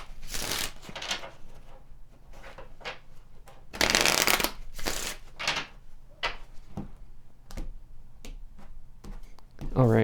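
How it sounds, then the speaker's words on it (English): Tarot cards being shuffled and handled up close, with repeated crisp riffling bursts, one louder sustained shuffle in the middle, and softer card slaps and taps between, with quiet talking in the background. "Let's pull some additional cards."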